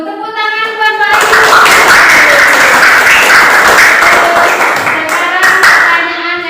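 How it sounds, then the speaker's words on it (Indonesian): A sixth-grade class in a religious studies lesson bursts into loud, close, rhythmic group clapping for a classmate, with children's voices chiming in over the steady claps before it tapers off. "Tepuk tangan buat Pak Ayu."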